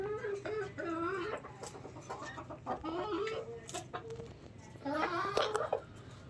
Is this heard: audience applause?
no